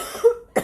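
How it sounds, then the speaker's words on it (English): A person coughs twice in quick succession, close and clear, each a short sharp burst with a brief pause between. "I'm about to cough."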